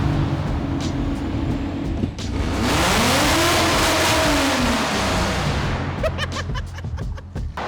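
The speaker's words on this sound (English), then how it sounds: "The exhaust sounds nuts. The exhaust sounds so good." A loud Toyota Supra exhaust with a 5M-GE engine roars as the engine revs up and back down in one long sweep, with steady road rumble underneath.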